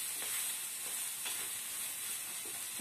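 A pan of potato and butter bean masala with garam masala powder sizzles steadily and is given a quick stir, a constant bright frying hiss with faint scraping taps, close and alone.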